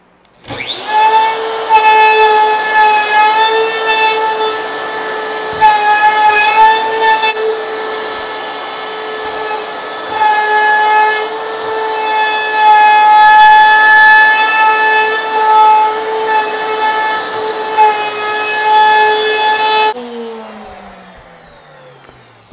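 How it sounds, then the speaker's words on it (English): Trim router fitted with a small round-over bit cutting along a wooden edge of a paddle rack base, a steady high-pitched whine held for about twenty seconds, close and loud, then cutting off. "So I've put a little round off bit in the trim router"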